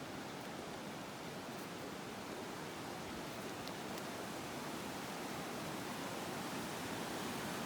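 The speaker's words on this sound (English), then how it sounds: "Lost Creek is raging" Lost Creek rushes in full spate beside an open campground, a loud, constant broadband roar of raging creek water close by, steady throughout with no talk.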